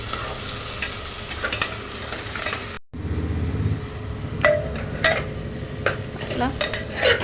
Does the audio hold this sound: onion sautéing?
yes